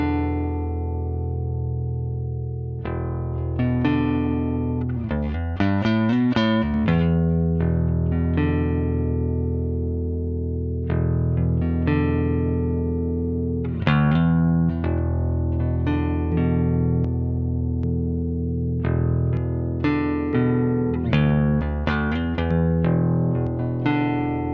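Bass guitar playing a steady line, a phase-alignment plugin toggled off and then on partway through, with sustained low notes and plucked attacks, no voices.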